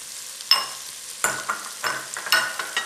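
Garlic sizzling in oil and butter in a pot, a soft crackling fry with a few sharper bursts as it is stirred, close and fairly quiet.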